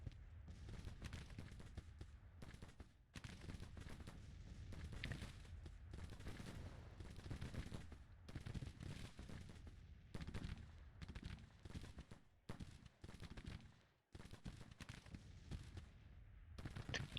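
Civil War muskets and field guns firing in the strategy game Grand Tactician, a long dense fusillade of overlapping crackling shots and booms, with brief gaps between volleys and no speech.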